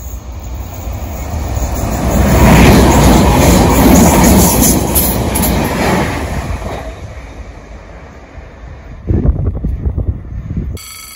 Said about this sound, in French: C'est en effet pour le Transilien de tout à l'heure.